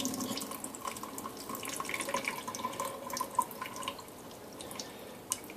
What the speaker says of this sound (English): We're going to just strain it out through our strainer there.